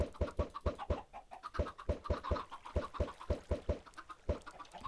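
Chickens on an egg farm cluck in quick repeated bursts, a fairly regular pulsing rhythm, quiet and close, with no talking.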